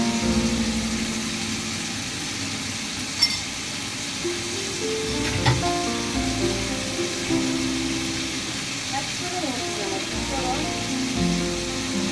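Chicken for a Chinese-style dish fries in a pan over high heat, making a continuous, even sizzle with a few sharp clinks of a utensil against the pan.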